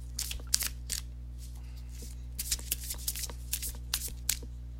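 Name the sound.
shuffling tarot cards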